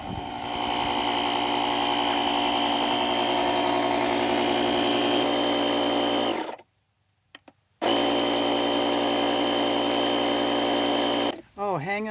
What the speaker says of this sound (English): it does sound like it's got a pretty big compressor on it